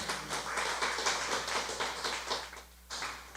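A church congregation at a Friday worship service claps in steady rhythmic unison, a dense, continuous patter of many hands that fills the room and then briefly dips before resuming.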